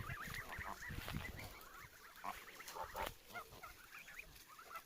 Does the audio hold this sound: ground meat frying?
no